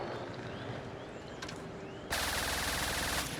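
A turret on a custom build in the video game Trailmakers fires a rapid, loud automatic burst after a quieter stretch, the dense stream of shots cutting off abruptly just over a second later.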